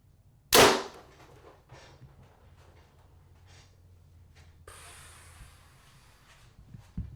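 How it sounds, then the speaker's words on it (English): A lightweight arrow released from a bow and shot through a chronograph makes a single sharp, loud snap and thwack near the start, followed by quiet breathing and faint movement noises. "we're going to shoot this bad boy through the chrono"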